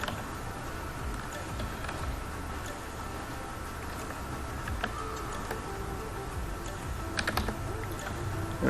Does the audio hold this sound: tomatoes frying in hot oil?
no